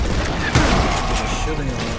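Gunfire in the Western shooter game Call of Juarez, a sustained burst of shots with a loud crack near the middle, heard over a busy game soundtrack while a voice talks.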